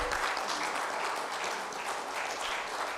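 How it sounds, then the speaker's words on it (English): A conference audience gives steady applause at a fairly low level, with many hands clapping evenly throughout a short stretch and no talk over it. "Big round of applause, I must say."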